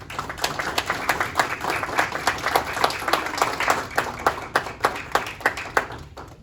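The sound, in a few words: round of applause for Dr. Miguel Molina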